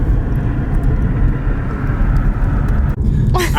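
2018 Mustang GT accelerating hard in a 50 mph roll race, heard as a loud, steady, broadband roar with wind rumble from inside or near the car, ending with a brief sharp noise.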